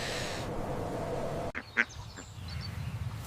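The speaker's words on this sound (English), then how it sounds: "This is a medium black farm duck." A medium black farm duck quacks a few times in short, nasal bursts, close and clear over a low rustling background.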